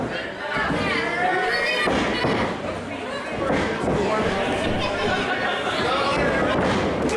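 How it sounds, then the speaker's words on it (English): A wrestling crowd chatters and roars steadily at a televised indie pro wrestling match, loud and continuous, with heavy thuds from the ring and a commentator talking over the noise. "as you can hear the response here from this crowd"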